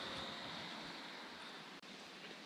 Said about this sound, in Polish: Te białe fale rozbijające się o te wulkaniczne skały